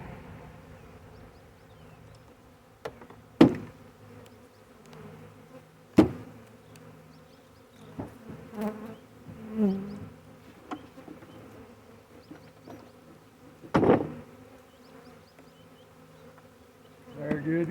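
A honey bee swarm just caught and installed into a hive hums steadily at close range, a dense continuous buzz with occasional sharp knocks and thumps over it.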